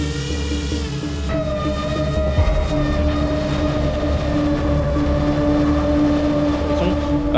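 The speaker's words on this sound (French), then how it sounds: "Sur ce drone FPV, la bouteille simule la charge." An FPV drone carrying a bottle as a simulated payload during a military training exercise, a loud steady engine-like whine with layered droning tones that holds throughout, close and constant.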